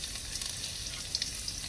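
Garlic fries in hot oil in a pan, a faint, even sizzle with soft scattered crackles and no talking.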